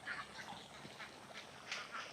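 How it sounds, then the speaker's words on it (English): Ducks quack in a Bali rice field, several overlapping nasal calls repeating in quick irregular bursts, moderately close and fairly faint outdoors. "Absolutely love the ducks in Bali."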